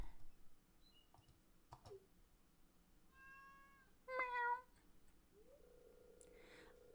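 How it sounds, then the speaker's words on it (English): A stray cat in the farming video game Stardew Valley meows twice, short and clear, among faint interface clicks and soft chimes. "You see this cat here?"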